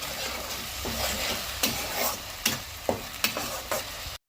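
Tomato and dry spices frying in a pan for a Bengali-style rita fish curry, with a continuous sizzle broken by several sharp stirring scrapes near the end; no voices.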